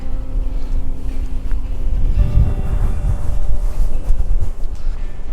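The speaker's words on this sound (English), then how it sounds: "I'm walking straight into probably 15 mile an hour, 20 mile an hour wind" Strong wind of around 15 to 20 mph buffeting the microphone on a hillside, a loud, continuous low roar with heavy rumbling gusts and faint steady tones underneath.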